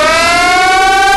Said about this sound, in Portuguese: Que trem doido de sirene é esse, jogador?